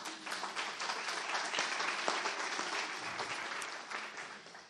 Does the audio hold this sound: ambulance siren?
no